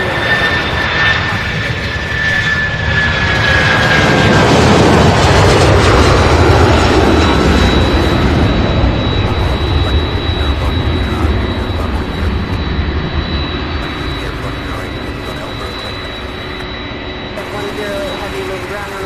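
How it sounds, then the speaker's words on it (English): A 25-year-old UPS Boeing 757 jet on the move at an airport, a loud, close engine roar with a whining tone that builds to a peak midway and then gradually eases off, with faint talk beneath it. "This is UPS 620 at 25-year-old 757."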